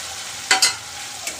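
Chana dal is added to fried onions over a low flame and stirred, giving two quick close scrapes and a fainter third against a soft, low sizzle.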